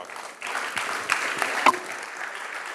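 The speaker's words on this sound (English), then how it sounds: "Can you keep the applause louder for them?" Audience applause after an onstage chat with Madhuri Dixit and Dr. Nene, a steady wash of clapping with a few sharper claps, heard from the room at moderate level.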